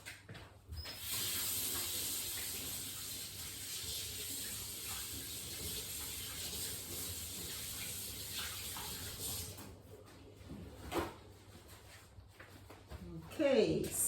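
Water from a kitchen tap runs steadily while hands are washed, a continuous close hiss lasting most of the clip before cutting off, followed by a few clatters and handling noises.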